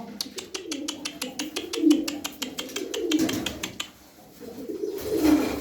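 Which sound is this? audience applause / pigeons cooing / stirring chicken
pigeons cooing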